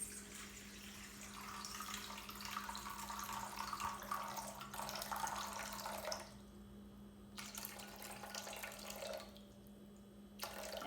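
Filtered water pours in a steady, faint trickle into a bowl set on a kitchen scale, stopping and restarting a couple of times, with no talking.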